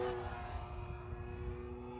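An FMS Pitts 1400mm RC model biplane flies overhead with a steady electric motor drone and whine, holding a constant tone at moderate distance, with no talking.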